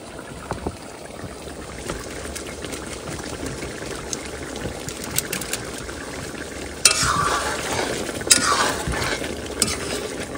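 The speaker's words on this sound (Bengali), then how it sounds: "তরকারি হয়ে গেছে, এইবার গরম মশলা দিয়ে নামাই দেবো।" Fish curry simmering in a pot is stirred after garam masala goes in, giving a steady scraping sizzle with louder, brighter bursts of stirring in the last few seconds; no one speaks.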